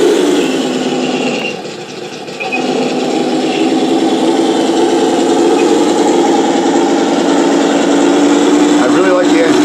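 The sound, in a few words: RC Tiger 1 tank model engine sound at full throttle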